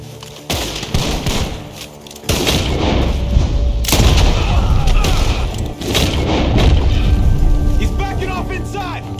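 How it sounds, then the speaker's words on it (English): Loud bursts of gunfire and heavy booms from a Red Dead Redemption 2 shootout come in repeated volleys over dense game noise, with voices shouting in the middle of the action. "The gunshots are coming."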